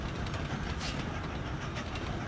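Train running in the railway puzzle video game Train Valley, a faint, steady rumbling clatter with soft rhythmic clicks, heard alone without talk.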